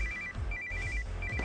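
A telephone ringtone plays in short repeated bursts, a clear electronic ring sounding moderately close over a low background rumble, with no talk.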